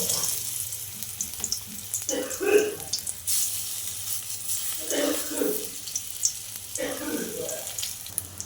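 Mustard oil sizzles and crackles in a pan as banana flower fritter batter goes in, in short bursts of frying hiss with scraping and faint talk.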